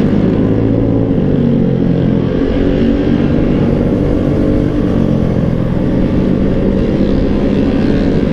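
A Honda Vario 150 scooter rides along wet, muddy roads in Bogor, giving a steady, loud engine and road drone with rushing wind that runs unbroken from start to finish, with no talking.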